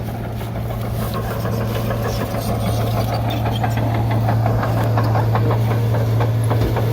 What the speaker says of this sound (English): he's got a skid steer on tracks